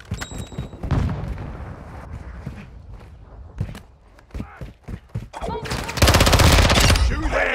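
Bursts of gunfire in the Modern Warfare 2 video game, loud, close shots and rapid automatic fire ending in a dense volley, with footsteps and in-game voices between.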